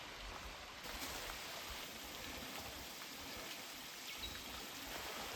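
Steady creek water rushing and babbling along a bush walking track, a continuous close wash of flowing water with no voices.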